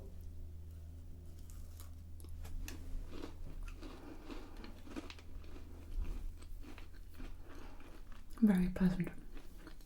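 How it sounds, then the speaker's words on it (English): Close, quiet chewing of a crumbly cranberry biscuit, with soft crunches and moist squishy bites spread over several seconds and a louder mouthful near the end; a voice speaks briefly over it. "The cranberries are really nice and chewy."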